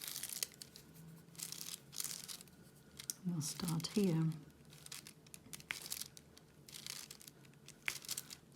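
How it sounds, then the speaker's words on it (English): The plastic protective layer on a diamond painting canvas crinkles and rustles in short, close bursts, with a cluster of sharper crackles in the middle, while someone talks softly. "this protective layer is crinkling a little bit"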